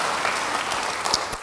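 Church congregation applauding together during a worship service, a steady wash of clapping from many hands held at a moderate, even level for a moment.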